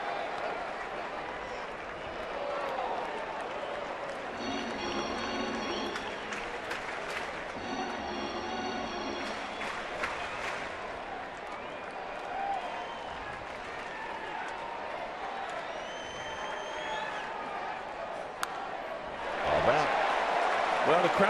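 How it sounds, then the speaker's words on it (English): A baseball crowd at a Giants–Dodgers game, a sustained bed of applause and cheering from a large stadium audience that swells near the end, with talk running over it. "Well, the crowd's into it now."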